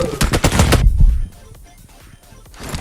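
Gunfire in PUBG Mobile, a loud close burst of rapid automatic shots followed by quieter, scattered distant shots.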